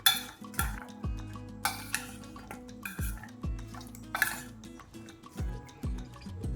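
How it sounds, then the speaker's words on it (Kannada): A spoon stirring chopped apple with other ingredients in a metal bowl for Krishna prasad, producing close, irregular clinks and scrapes that repeat roughly every second. "ಇದನ್ನೆಲ್ಲ ಒಂದು ಸಲ ಮಿಕ್ಸ್ ಮಾಡೋಣ."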